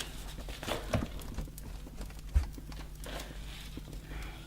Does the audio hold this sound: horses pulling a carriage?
yes